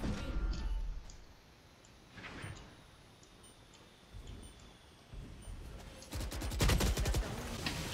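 Gunfire in the video game Valorant from a semi-automatic weapon, with bursts of shots early on and a rapid volley near the end, along with faint ticks and mechanical clicks, without speech.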